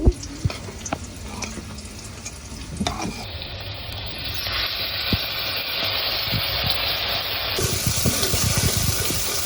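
Water poured into a spice mix in a pan during village home cooking, a steady close splash and gurgle over a sizzle, with a few clinks of utensils near the start.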